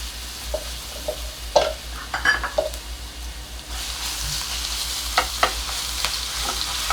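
Coarsely ground ginger, garlic and green chilli paste with cumin and asafoetida sautéing in a pan, with a steady soft sizzle and a few scattered clinks of a spoon stirring, near and alone.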